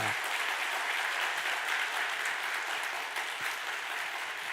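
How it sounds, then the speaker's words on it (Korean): Church congregation applauding during a Sunday worship service, a dense, steady wash of many hands clapping together throughout, loud and even with no voices rising above it. "우리 미인 5명에게 감동받은 만큼 박수를 한번 치겠습니다"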